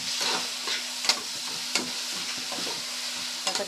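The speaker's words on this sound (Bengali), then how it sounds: "দিয়ে আবারও সব মশলাগুলোকে একসঙ্গে কিন্তু কষিয়ে নেব" Spices and yogurt being stir-fried in a pan for a Bengali-style grass carp bhuna, a soft steady sizzle broken by several sharp scraping strokes of a spatula, close and without voices.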